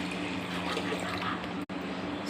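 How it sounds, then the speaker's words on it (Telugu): Water is poured steadily into a cooking pot of bottle gourd sambar, giving a continuous close rushing fill sound with a brief break near the end. "ఇప్పుడు మనం వాటర్ పోసి"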